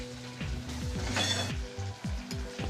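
Potato curry masala with gram flour, salt and sugar frying in oil in a pan, a loud close sizzle broken by a burst of spattering and repeated scraping stirs, no voices.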